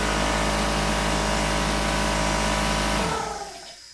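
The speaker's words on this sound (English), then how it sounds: "And here's the pancake compressor." A pancake air compressor runs loud and close with a steady motor drone and hum, then switches off and winds down into fading rattle and silence.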